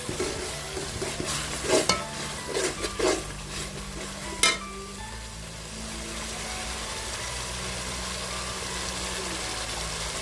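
Ground chili and shallot paste sautés in a pan for banana flower biryani, with a few sharp stirring clacks early on, then a quieter, steady sizzle over a low hum.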